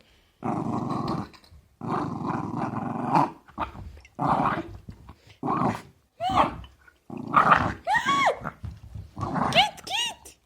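A small Jack Russell terrier growls over a pillow in short, throaty bursts, close by and fairly loud, with a person talking over and between the growls.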